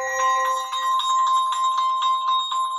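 A smartphone ringtone plays from an Advan W1E handset: a bright, repeating bell-like melody with clear pulsing notes, fairly loud and close, alone with no talking.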